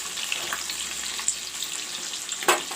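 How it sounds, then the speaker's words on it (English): Fish pieces frying in a pan of oil for a masala curry, giving a steady, close crackling sizzle with a brief sharper spatter near the end. "I have fried up some fish here, you can see, and some is frying here"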